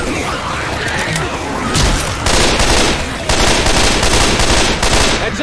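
Sustained automatic gunfire in the Left 4 Dead 2 video game, dense rapid bursts that rattle on almost continuously and loudly, with a brief lull before the firing picks up again.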